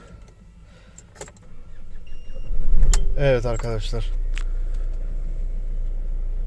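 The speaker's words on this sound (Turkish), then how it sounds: "Evet arabayı çalıştırdık." A car engine cranks and catches after a battery jump start, with a short starter whir followed by a steady low idle that continues to the end. Someone speaks briefly over the sound.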